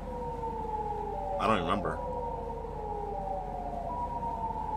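A Siren Head style siren wails in a horror video game, a long, steady, warbling tone running throughout at moderate level, with a short burst of a person talking partway through.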